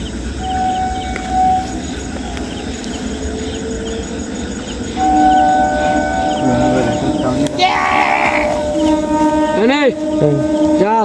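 A train passes nearby with a steady rumble and sustained horn tones that rise and bend as it goes by, against a background of crickets and faint voices.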